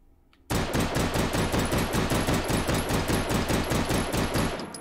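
Beretta M93R A9 pistol in the H3VR VR shooter firing in single-shot mode: a long, steady string of about twenty evenly spaced, loud sharp shots after a brief quiet start.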